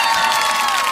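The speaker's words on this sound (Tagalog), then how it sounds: "Palakpak naman dyan." Audience applause mixed with cheering at a Philippine press briefing on the Office of the Vice President's audit rating, a dense steady wash of clapping and crowd noise that fills the whole moment at even loudness.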